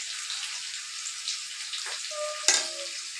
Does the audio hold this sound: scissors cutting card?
no